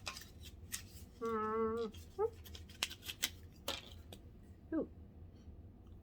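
A Dollar Tree product package is opened with a series of close snips, clicks and crinkles, broken up by a person's brief exclamations and a sustained hummed tone.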